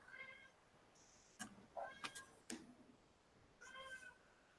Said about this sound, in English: And now we have a cat meowing.